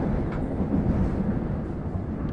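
A subway train runs with a steady low rumble and roar, loud and continuous throughout, as if heard from inside the carriage, with no voices.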